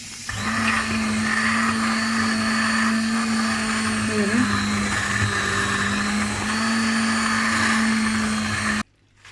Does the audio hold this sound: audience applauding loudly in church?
no